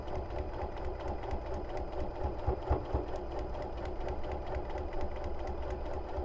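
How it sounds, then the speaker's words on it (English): A sewing machine stitches straight down a seam during foundation paper piecing, a steady rapid mechanical chatter of needle strokes running evenly throughout, close and fairly quiet. "we're gonna hit start, and we're gonna sew straight down this line"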